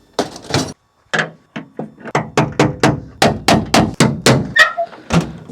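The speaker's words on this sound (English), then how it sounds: "Let's use some basic tools and try to pop some dents." Repeated hammer-like thunks on a Duramax truck's creased tailgate as dents are popped out with basic tools, about a dozen loud, close metallic blows in a steady, quickening rhythm after a few scattered knocks.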